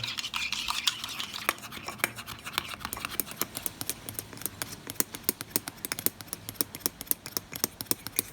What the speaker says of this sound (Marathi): तर त्याला अर्धा तास आता ढवळायची कामं करूया.